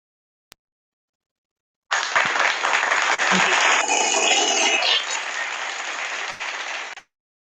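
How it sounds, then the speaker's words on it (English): An audience bursts into sustained applause at a panel talk on post-pandemic economic recovery, a dense wash of clapping that starts suddenly and holds for about five seconds before stopping, following a single faint tap. "So let's have a round of applause for both the speakers."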